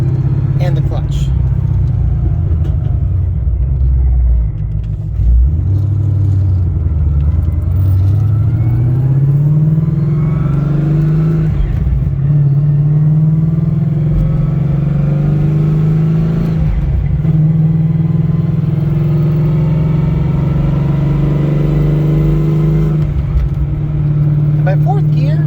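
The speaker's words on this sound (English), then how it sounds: "So you'll hear obviously more gear whine." Ford Mustang with a Stage 3 Gen 3 transmission driving and pulling through the gears, a steady loud engine and drivetrain drone with rising whine, while someone talks over it throughout.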